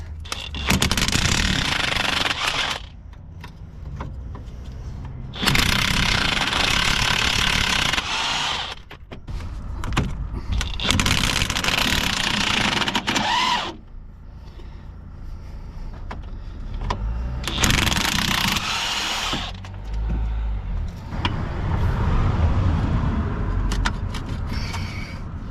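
A 19 mm bolt comes off a Vauxhall Corsa C during suspension lowering work, with loud, harsh mechanical bursts that start and stop repeatedly and quieter stretches between them, close up.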